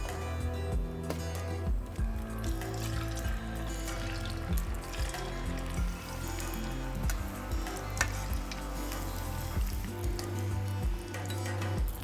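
Chips frying in a pan, a steady close sizzle with occasional bubbling and stirring clatter, continuing throughout without speech.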